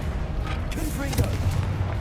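A Confringo blasting spell detonates in the wizarding video game Hogwarts Legacy, giving booming explosive bursts around the middle of a short stretch, set against continuous background game sound.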